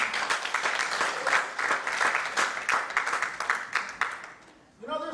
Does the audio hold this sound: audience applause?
yes